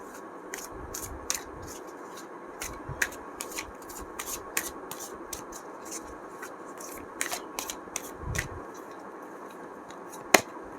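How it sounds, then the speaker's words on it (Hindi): Tarot cards being shuffled and arranged by hand make crisp, quiet snaps and riffles. The flicks come at irregular intervals, close and clear over a soft background hiss, with no talking. "वेट, कार्ड्स अरेंज कर लेते हैं अच्छे से ताकि आपको दिखाई दे।"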